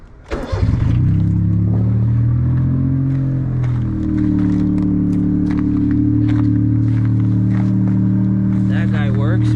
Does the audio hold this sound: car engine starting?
yes